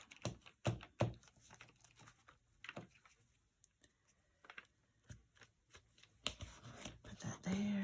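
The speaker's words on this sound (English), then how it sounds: "And this is a butcher paper." Butcher paper handled on a craft table for trashy journal backgrounds, giving quiet bursts of rustling and crinkling with soft taps, clustered near the start and end with a lull in the middle.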